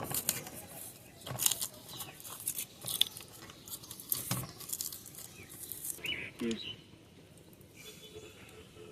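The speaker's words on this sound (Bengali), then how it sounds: "শুকনো মরিচগুলো নিয়ে নিয়েছি শুকনো মরিচগুলো এখন আমি চটকে নেব" Dried red chillies are crushed by hand in a kitchen, making dry crackling and crumbling crunches in irregular bursts, some sharp and loud, others faint.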